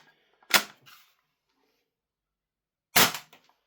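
A CYMA Colt CAR-15 gas blowback airsoft rifle fires BBs: two sharp, loud single cracks about two and a half seconds apart, each with a short mechanical rattle, in otherwise near silence.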